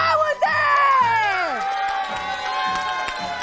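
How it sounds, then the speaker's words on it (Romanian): Studio audience applause and cheering on a Romanian entertainment show, loud clapping under excited whoops and shouts, with a rising, swooping cheer near the start and the crowd noise carrying on to the end. "Aplauze!"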